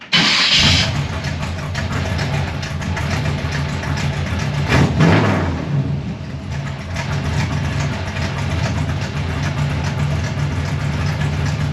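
An old NOMAD car engine cranks and fires up, then settles into a steady, close idle that runs on for several seconds with no talk over it.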